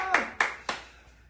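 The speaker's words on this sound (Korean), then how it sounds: "우리 하나님 앞에 영광의 박수를 했으면 좋겠어요." Three sharp hand claps in quick succession during an online Easter children's worship service, close and loud, each fading quickly, with no talk.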